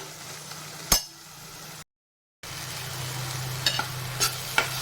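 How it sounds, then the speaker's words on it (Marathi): Spice masala tempering roasting in oil with red and garam masala, a low continuous sizzle broken by a few sharp clinks and scrapes of a spoon stirring, with a brief silent gap partway through. "आणि चांगलं तेल सुटेपर्यंत आपल्याला ही फोडणी आता भाजून घ्यायची आहे"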